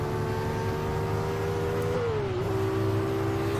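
A race car engine from the Automobilista racing game, with a Ford vs Ferrari car at Sebring, holds a steady loud drone with a brief pitch dip as it shifts or lifts, then settles back to a constant roar.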